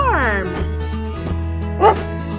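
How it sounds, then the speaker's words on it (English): A dog on a farm gives a few loud, close yips and barks with whimpery tones, and children's music plays beneath them. "It's a dog!"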